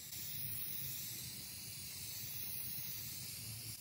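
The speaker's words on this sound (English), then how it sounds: "So I'm spraying two coats on the entire piece" A continuous airy hiss of spray paint being applied to an MDF dresser runs steadily throughout, close by and even in level, with a faint low rumble underneath.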